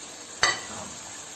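Pre-fried okra being folded into masala in a pan: one brief scrape of the spoon near the start, then a soft sizzle that fades. No one talks.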